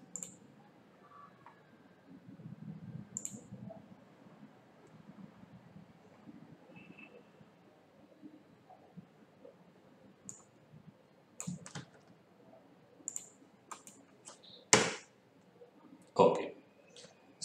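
Scattered clicks of keys on a computer keyboard as a password is typed for a second user login on OpenShift 4, light and sparse at first, then a few sharper, louder taps near the end over a faint background murmur.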